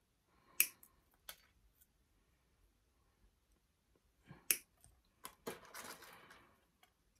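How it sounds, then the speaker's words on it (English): Cutters snipping floral wire, a few sharp isolated clicks spaced apart in a quiet room, then a cluster of snips and faint rustle toward the end. "grab a pair of cutters here, and I'm just going to cut"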